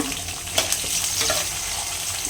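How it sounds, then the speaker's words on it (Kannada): Mustard seeds, cumin, chana dal and curry leaves fry in hot oil for a palya, a short, close sizzle with a few sharp crackles and pops scattered through it. "ಸೇಮ್ ಎಣ್ಣೆ ಸಾಸಿವೆ ಜೀರಿಗೆ ಕಡಲೆಬೇಳೆ ಕರ್ಬೇವಿನ ಸೊಪ್ಪು ಹಾಕ್ಕೊಂಡಿದ್ದೀನಿ ಇದೆಲ್ಲ ಚೆನ್ನಾಗಿ ಫ್ರೈ ಆಗಲಿ"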